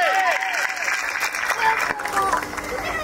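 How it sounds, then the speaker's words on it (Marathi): A village comedy-show crowd clapping and cheering, brisk applause mixed with excited voices and shouts heard throughout at moderate loudness. "जोरात टाळ्या झाल्या पाहिजे."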